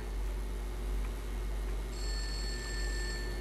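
A phone rings faintly in the horror game Hanako in the Abandoned School, a thin electronic tone that enters partway through and sustains over a low, steady background hum.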